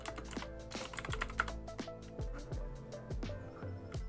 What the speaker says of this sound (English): I'm sorry, my keyboard's loud.